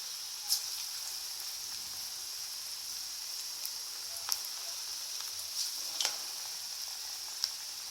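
Moong dal pakoda fry in hot oil, giving a continuous bright sizzle with occasional sharp pops and crackles, steady and close, with no voices.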